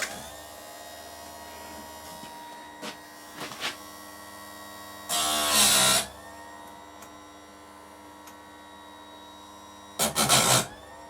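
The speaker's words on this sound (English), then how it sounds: "I'll just try and give it one last sharpen" A worn chainsaw chain being sharpened for a final use during oak trunk woodcarving, with two loud bursts of file-like rasping, one long and one shorter, over a steady low hum and faint knocks in between.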